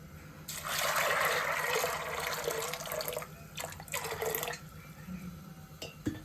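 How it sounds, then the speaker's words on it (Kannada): Water runs steadily from a tap into a pressure cooker pot for a few seconds, then comes in shorter splashing bursts, fairly quiet and close. "ನೀರು ಹಾಕ್ಕೊಂಡು ಒಂದು ಸ್ವಲ್ಪ"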